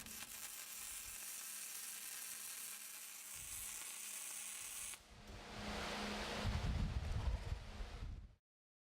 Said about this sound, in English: You make one straight weld.